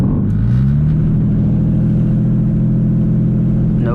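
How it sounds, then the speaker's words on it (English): Turbo diesel Mercedes with a stock injection pump revving hard during a brake stand, the loud engine note climbing then holding a steady, heavy drone with rumble, close and continuous. "Let's see if we can do a little brake stance and see what happens."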